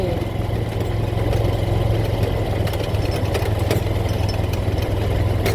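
A motorbike engine runs steadily in low gear, a loud continuous low drone with rough throbbing texture and no pauses, heard close throughout.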